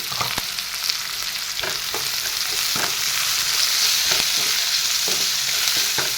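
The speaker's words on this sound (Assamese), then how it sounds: "এইখিনি এফালৰ পৰা লৰাই লৰাই দি দিলোঁ" Fish with spices stirred in a frying pan along with softened onion, salt, turmeric and chilli powder for a cauliflower fish curry, sizzling steadily with repeated scraping strokes of the stirring utensil and no talking.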